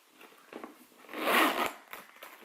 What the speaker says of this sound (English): And the zipper.